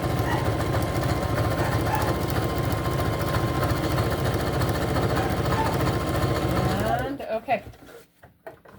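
A sewing machine runs steadily at close range, stitching and back stitching fabric in a fast even mechanical whir, then stops near the end, leaving brief handling clicks and faint talk.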